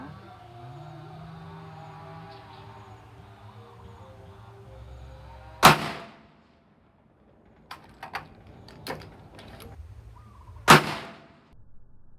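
Two loud, sharp gunshots from a CZ 600 Trail .223 rifle several seconds apart at a shooting range, with quieter clicks and handling noises from the rifle's action in between.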